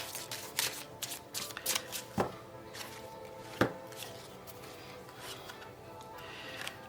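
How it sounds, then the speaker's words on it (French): Tarot cards are shuffled by hand in a quick series of close, papery riffles and rubs, with a few sharp taps as the deck is squared, no talking. "Je vais remélanger parce que je regarde la carte en même temps."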